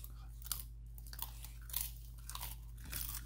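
A dog crunches and chews a crunchy brisket egg roll with smoked bacon. Soft, close bites and mastication repeat irregularly over a steady low hum.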